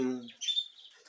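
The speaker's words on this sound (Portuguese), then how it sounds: "filhotes de periquito australiano" Budgerigar chicks give thin high chirps in the nest, brief and close, following a moment of a speaking voice.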